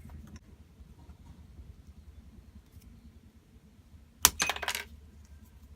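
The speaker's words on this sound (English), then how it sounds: "Be careful where that bit of resin pings over." A small trimmed piece of resin snaps off and pings away, a sharp bright click followed by a short burst of light skittering clicks as it drops and bounces, close and clear over a quiet low hum.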